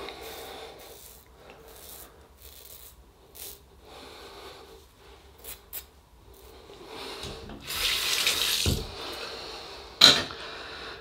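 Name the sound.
running tap water while shaving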